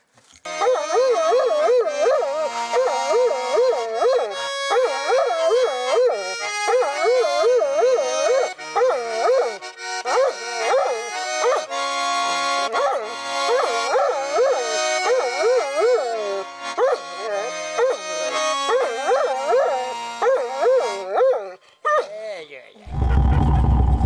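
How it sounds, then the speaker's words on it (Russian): An old dog in Yakutia howls and yowls in sustained, wavering tones along with its owner's music, loud and close, with the singing howls rising and falling in long phrases throughout. "У Платона есть старый пес по кличке Баянай, который любит петь под аккомпанемент своего хозяина."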